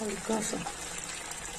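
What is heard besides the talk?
water poured into cooking pan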